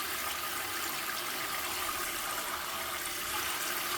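Running water pours steadily into a washing machine drawer during cleaning, a continuous soft hiss and splash at moderate distance, fairly quiet and without talk.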